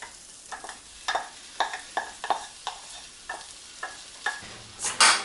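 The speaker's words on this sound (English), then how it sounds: "The quinoa has cooked up, so we're going to go ahead and fold that in here" Cooked quinoa is folded into a skillet of Brussels sprouts and pancetta, with a spoon scraping in repeated irregular strokes over a soft steady sizzle, close up and without talk.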